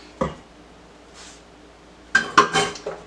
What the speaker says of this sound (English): Just give it a little light stir to mix it in.